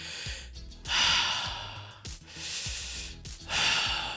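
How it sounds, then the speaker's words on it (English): Heavy breathing over conference call audio, three long rasping inhales and exhales in a slow, even rhythm, close and fairly loud with no talking. "It's like breathing,"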